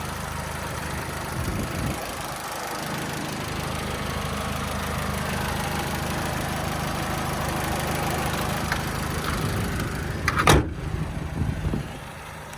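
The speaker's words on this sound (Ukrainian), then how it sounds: "Зараз двигун працює на газовому обладнанні." A Skoda Octavia engine idles steadily on LPG, a low, even rumble throughout, and a brief sharp clunk near the end.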